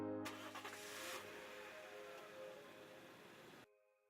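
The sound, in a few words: car engine starting in the video game Narcissu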